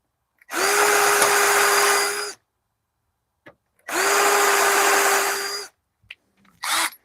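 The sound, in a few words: power drill with step drill bit widening a hole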